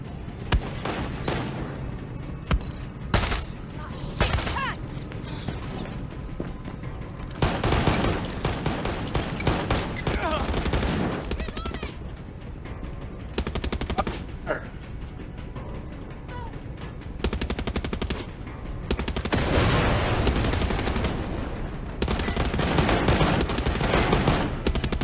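Rapid automatic gunfire and bursts of shots crackle loudly and nearly without pause in the video game Far Cry 6, dense volleys broken by brief lulls, with no speech over them.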